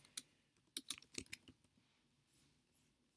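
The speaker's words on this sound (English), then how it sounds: "So let's type in the title, test gallery." A few quick bursts of key clicks come from a computer keyboard as a page title is typed, close and soft, trailing into quiet with a faint rustle.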